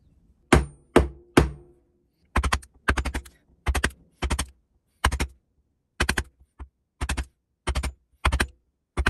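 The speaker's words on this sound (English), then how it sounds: "I'll probably just chisel out a wee 1 centimetre groove in there" Sharp, evenly spaced hammer-on-chisel strikes cut a small groove into a wooden birdhouse, coming in quick bursts of two to four loud, close knocks separated by short pauses.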